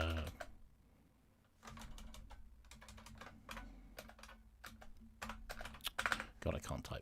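Computer keyboard typing in quick irregular bursts of clicks, close and fairly quiet, with a voice speaking over part of it.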